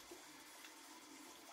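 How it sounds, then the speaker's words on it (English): Cold tap water runs steadily through a raw five-pound duck in a kitchen, making a continuous close hiss and splash over the short stretch, with no talking. "I'll run some water through it."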